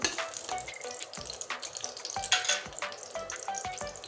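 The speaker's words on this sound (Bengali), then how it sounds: "দুটো শুকনো লঙ্কা দিয়ে দিচ্ছি লঙ্কাটা ভেজে নিব লাল করে" Two dried red chillies frying in hot oil in a pan give a steady close crackle and sizzle with sharp pops and light stirring clatter throughout, with no talking.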